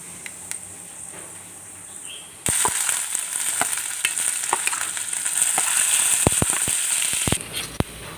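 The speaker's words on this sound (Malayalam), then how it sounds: "നമുക്ക് എണ്ണ ചൂടാകുമ്പം കടുകിട്ട് കൊടുക്കാം നടുകെട്ടതിന് ശേഷം നമ്മൾ അരിഞ്ഞു വെച്ചിരിക്കുന്ന ഇഞ്ചി ഇട്ട് കൊടുക്കാം" Mustard seeds and chopped ginger go into hot oil for a sprouted cashew curry: quiet at first, then a sudden loud, steady sizzle with sharp popping crackles scattered through it, close up and without talk.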